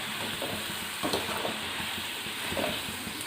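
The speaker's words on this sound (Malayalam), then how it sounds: "ഇതുപോലെ തന്നെ ബാക്കിയുള്ളതും കൂടി നമുക്ക് വറുത്ത് പോരാം." Bitter gourd frying in hot oil, a soft, even sizzle and bubbling, fairly quiet and steady, with a few light stirring knocks and no talking.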